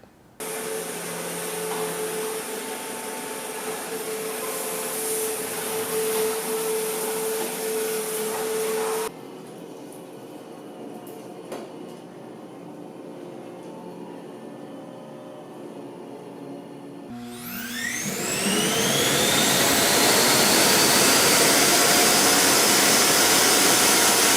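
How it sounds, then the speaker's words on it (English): A Roomba j7+ robot vacuum hums steadily with a high whine on hardwood, shifts to a quieter, lower drone on carpet, then roars much louder as it empties. "Here's what the vacuum sounds like on hardwoods, carpets, and while emptying."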